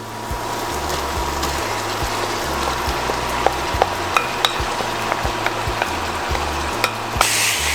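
Shrimp paste and browned garlic fry in a pan, a continuous close sizzle punctuated by regular sharp clicks of a spoon or spatula stirring against the pan, with no speech over it.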